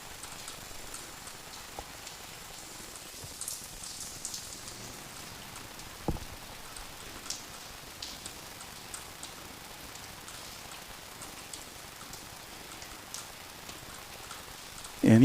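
Steady rain falls at Incheon airport in Seoul, South Korea, a soft continuous patter on surfaces with scattered drop taps throughout, fairly quiet and without talk.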